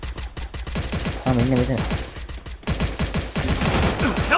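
Rapid bursts of automatic gunfire in a Counter-Strike match, loud and close, firing in quick repeated volleys with brief pauses, while someone talks over the shooting.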